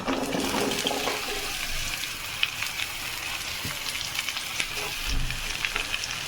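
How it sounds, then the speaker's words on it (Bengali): Radish and dried fish sizzle and crackle steadily in a hot pan for a Bengali dried-fish curry, a close, continuous frying hiss with occasional clinks and stirring sounds and no talking. "এবার তার মধ্যে দিয়ে দেব এই মূলা আর এই শুটকিটা একসাথে দিয়ে দেব।"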